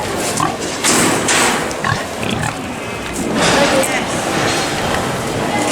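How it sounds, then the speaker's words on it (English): A pig at the Bath and West agricultural show grunts and oinks close by in repeated loud bursts, while people talk nearby among farm-show crowd noise. "There's a pig out. Escape pig."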